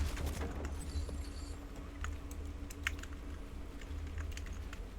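Keys clatter steadily on a larger-than-usual computer keyboard, a busy run of soft clicks layered over a constant low hum of background noise during a shooter game session.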